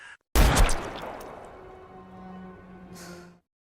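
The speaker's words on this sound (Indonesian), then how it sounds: "Paijo sama sekali tidak berniat membiarkan wanita itu lolos hidup-hidup dan terus melepaskan tembakan" A gunshot rings out in a Korean spy thriller. One sharp, loud blast hits after a brief silence and decays into a ringing tail, with a faint hiss at the very end.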